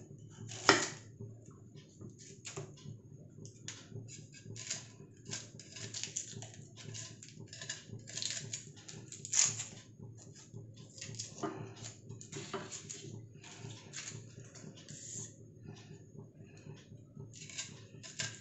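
A knife finely chopping an onion on a board, a long run of quick, light, close taps with a few louder knocks, steady and faint throughout.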